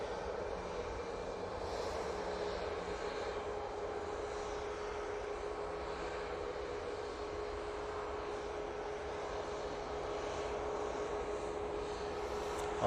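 An easyJet airliner departing Manchester Airport for Oslo, its engines a steady distant broadband roar with a faint hum, holding even throughout with no talk.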